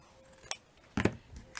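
Scissors snipping satin ribbon for silky ribbon flowers, two quiet crisp cuts a half second apart with a faint third at the end, alone in a quiet room.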